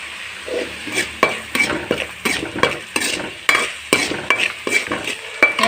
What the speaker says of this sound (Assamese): আলুকেইটাৰ ওপৰত দি মই ভালদৰে ভাজি ল'ম